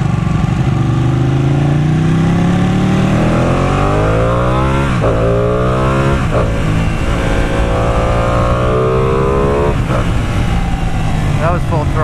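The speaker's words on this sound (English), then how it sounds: "That was full throttle." A Ducati Panigale 899 sport motorcycle is ridden at full throttle, its engine note climbing and shifting through repeated rising sweeps, loud and close, with the rider's voice heard over it.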